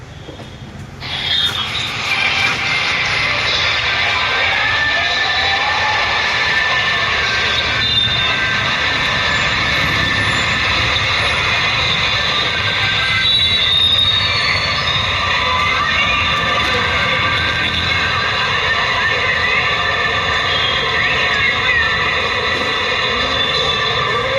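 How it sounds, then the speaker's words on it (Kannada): A 2017 Tata Nano Twist XT petrol automatic starts, then idles with a steady mechanical drone and whine. It runs loud and close for over twenty seconds with no talking. "ಇಂಜಿನ್ ಸೌಂಡ್ ಕೇಳೋಣ."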